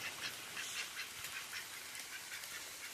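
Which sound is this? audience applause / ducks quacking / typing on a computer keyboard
ducks quacking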